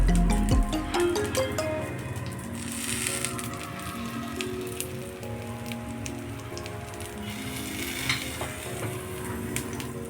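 Vegetable corn cutlets fry in a little oil in a pan, giving a steady close crackle and sizzle with scattered pops and light utensil clicks throughout.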